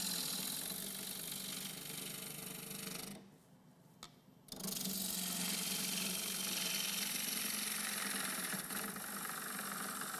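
A gouge on a spinning lathe cuts the corners of a round wooden bowl blank, giving a steady, loud rushing whir that drops away briefly mid-way, then returns strongly.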